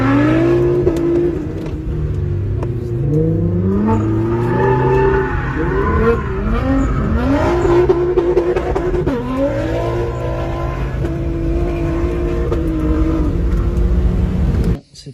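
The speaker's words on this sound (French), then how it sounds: "Je vais aller tourner avec la GTR en mode drift." Nissan GT-R drifting on a race circuit, its engine revving loudly with rapid rising and falling pitch sweeps and tire squeal woven in, sustained and close for the whole stretch before cutting off abruptly.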